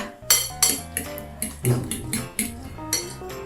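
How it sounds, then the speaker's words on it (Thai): Eggs beaten in a bowl for a Thai-style omelette with spring onion and shallot, a utensil clinking against the bowl in a quick rhythmic run of about eight close strokes. "เราก็ตีแค่ให้ไข่ ไข่แดงแตกนะคะ"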